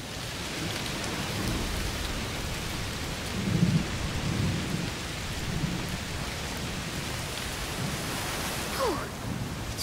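Steady heavy rain pours continuously in the video game A Plague Tale: Requiem while low thunder rumbles in the distance, swelling briefly in the middle.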